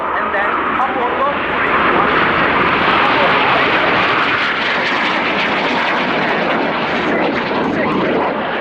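An MB-339 jet performs an aerobatic roll over an airshow, its engine roar steady and loud throughout, with an announcer talking over it.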